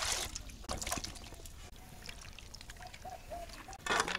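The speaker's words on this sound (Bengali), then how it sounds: "এখন আমি তরকারিগুলো আস্তে আস্তে এক এক করে সব ধুয়ে নিতে আসি।" Cut vegetables being washed by hand in water, with soft trickles, splashes and pouring sounds at close range, a few sharper splashes near the end.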